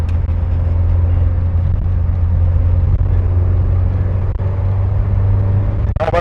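A small Peugeot 205 engine idles steadily, a low constant hum heard from nearby while warming up, with a brief clatter near the end.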